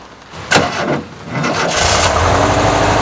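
A VW T25 van engine with an automatic choke cranks in a couple of bursts, then catches and settles into a steady, fairly loud idle close by.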